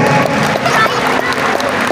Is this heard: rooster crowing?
no